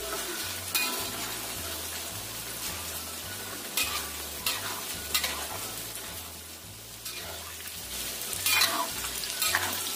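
Peanuts fry in hot oil in a home kitchen, giving a steady, close sizzle with recurring scrapes and clatter from stirring, and a low rhythmic hum underneath throughout.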